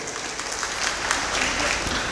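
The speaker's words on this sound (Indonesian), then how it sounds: "Beri tepuk tangan untuk kepada seluruh orang tua." Audience clapping at an open senate graduation ceremony at STKIP Taman Siswa Bima, a continuous, even patter of many hands at moderate level, somewhat diffuse and roomy, with no speech over it.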